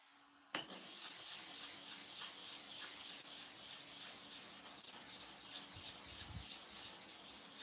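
A clipper blade is sharpened on a grinding surface, starting with a sudden onset and then giving a continuous, close, gritty rasping and rubbing that runs steadily throughout.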